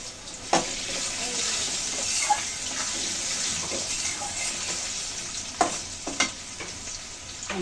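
Potatoes with turmeric frying in a pan, a continuous close sizzle with a few sharp clinks and scrapes of a spoon against the pan.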